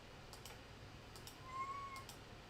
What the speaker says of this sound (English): Yeah, you're a kitty.